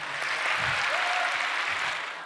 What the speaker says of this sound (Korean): 박수, 박수, 박수.